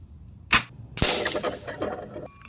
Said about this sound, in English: let's hit these spinners and antique targets with this many foot-pounds of energy